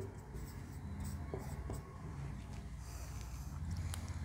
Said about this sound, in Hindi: तो यहां पे हम अपना सेकेंड फॉर्मूला भी लिख देते हैं।